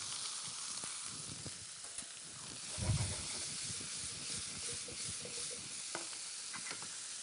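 Food sizzles in a hot pan during healthy home cooking, a soft, steady frying hiss with crackling pops and a brief louder surge of sizzle partway through, heard alone without talk.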